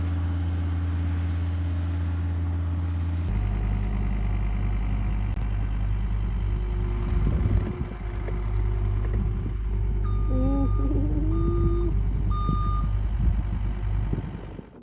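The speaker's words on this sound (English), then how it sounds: "very carefully bonked the container up the hill on his skid steer" A skid steer nudges a shipping container up a hill at a building site, with a steady low engine rumble throughout and short reversing beeps chirping near the end. No one speaks.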